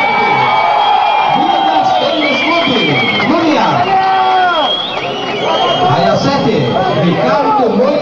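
A dense crowd at a 1992 men's 100m butterfly swimming final cheers, whoops and chatters loudly and continuously, with an announcer's voice carrying over the noise.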